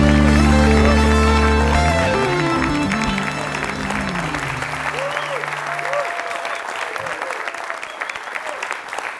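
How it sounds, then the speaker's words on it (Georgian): Studio audience of a Georgian late-night talk show applauding, a steady wash of clapping that starts under fading music and carries on to the end. "მეგობრებო, აპლოდისმენტები."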